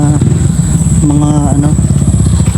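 A motorcycle engine hums and putters nearby on a road beside a cemetery, its pitch shifting slightly as it moves past, with a person talking over it.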